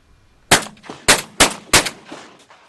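Shotguns fire at dawn on the opening morning of the Southland duck hunting season, four loud sharp blasts in quick uneven succession, each with a short echoing tail across open ground.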